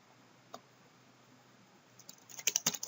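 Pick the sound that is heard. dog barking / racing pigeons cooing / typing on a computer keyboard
typing on a computer keyboard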